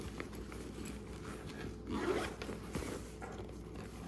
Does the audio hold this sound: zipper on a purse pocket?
yes